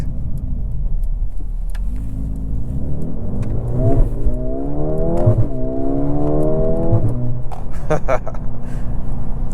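A 2024 Mercedes CLA35 AMG four-cylinder engine revs up through rising gear pulls, loud and close from inside the cabin, with brief shifts between climbs and no talking.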